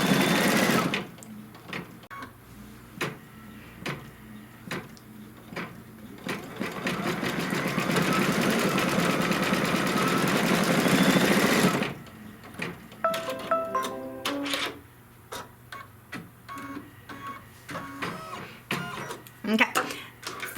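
A sewing machine stitches a Kimberbell mystery quilt block. A long steady whirring run gives way to short stop-start bursts of stitching, all up close, with a voice talking over parts of it.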